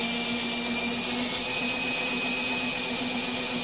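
A Model 9112 tube corrugating machine runs steadily with a continuous mechanical whine and hum, holding a constant drone with no voices.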